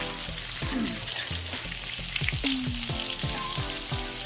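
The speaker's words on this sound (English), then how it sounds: "pan-seared salmon from the few times I've done it" Salmon sears in butter in a hot pan with a loud, dense, continuous sizzle and spatter that stays close throughout, with no talking.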